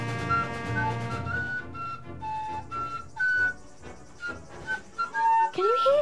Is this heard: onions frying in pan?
no